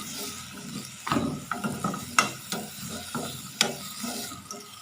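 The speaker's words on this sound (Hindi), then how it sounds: "आलूओं को हम 2 मिनट फ्राई करेंगे" Potatoes being mixed and fried in a pan, a light sizzle under repeated scraping and clattering strokes of a spoon, irregular but steady, close by with no talk.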